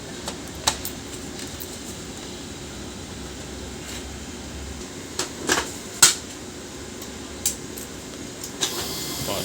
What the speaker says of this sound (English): Let's power up this printer.